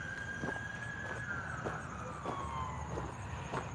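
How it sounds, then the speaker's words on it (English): A police car or ambulance siren passes in an arboretum park, its wail sliding slowly downward as the vehicle goes by, steady and moderately distant over outdoor background noise. "I'm not sure if that was the police or if that was an ambulance"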